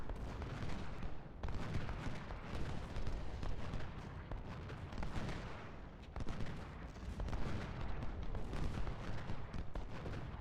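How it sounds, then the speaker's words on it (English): Repeated artillery cannon fire in Ultimate General: Civil War at the Battle of Chickamauga, a rumbling barrage of booms overlapping continuously with brief lulls, heavy and loud throughout. "How about all our guns focus on this one battery of enemy artillery?"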